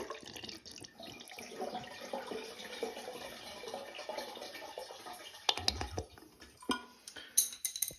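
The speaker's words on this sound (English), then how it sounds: "here we go with a flush" A wall-mounted toilet flushes with its seat raised, releasing a steady rush of water that runs for several seconds before breaking into gurgles and a few sharp clicks as the bowl drains and refills.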